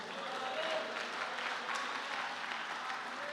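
A church congregation claps together in worship during a sermon, a broad, steady patter of hands held at moderate level for several seconds, with a faint voice underneath.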